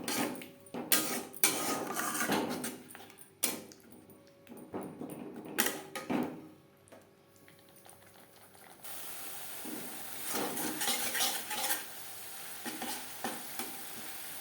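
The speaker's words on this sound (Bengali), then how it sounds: "তিন চার মিনিট মিডিয়াম টু লো ফ্লেমে মশলা কষিয়ে নেব।" Spice paste with tomato being stirred and fried in a pan on medium-low flame for a vegetarian potato curry, with repeated spoon scrapes and a steady sizzle that grows louder near the end.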